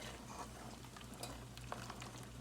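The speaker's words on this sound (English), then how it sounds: "Before I add any more salt, I'm going to give it a stir" Haitian-style cornmeal is stirred in a pot, a faint soft scraping and gentle bubbling over a low steady hum, with a few light taps of the spoon.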